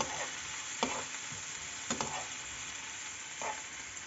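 Vegetables with coriander powder and turmeric frying for khichdi, a soft continuous sizzle broken by a few sharp spoon scrapes and taps as they are stirred, close and quiet, no talking.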